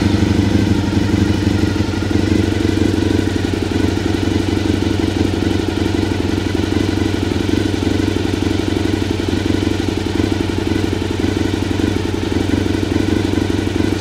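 A Honda VFR400 NC30 motorcycle under restoration runs steadily after starting, its engine producing a loud, continuous mid-pitched drone with a fine rapid pulse throughout, close by and without talk.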